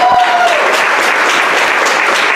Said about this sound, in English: Yeah, cheer for it, motherfuckers.